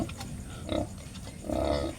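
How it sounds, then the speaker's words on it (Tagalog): Piglets suckling from their mother sow, with soft grunts and snuffling pig sounds close by in two short bursts, with no one talking. "Ayan mga biik, oh. Magdididi sila sa kanilang nanay."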